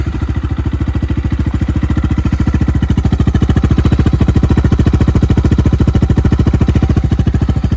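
A Kayo motorcycle engine, off choke and fully warm, idles loudly and steadily through gutted silencers, its rapid even pulses continuing without a break, close to the microphone.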